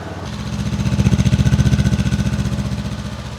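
Honda CBR 500 motorcycle on its stock exhaust, a close, steady idle with a pulsing, throbbing beat that holds loud and even throughout.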